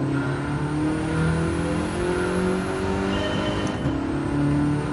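Volkswagen GTI with a DSG gearbox revving in the racing game Gran Turismo 7: a loud, continuous engine drone that rises and falls in pitch, heard alone without talk.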